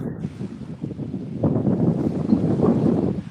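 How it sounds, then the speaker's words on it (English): Wind at a surf-fishing beach on Fort Morgan, Alabama buffets the camera microphone with loud, low rumbling gusts that swell noticeably partway through, with surf-like wash underneath. "I wish this wind would slack off. It's got to be loud in the camera."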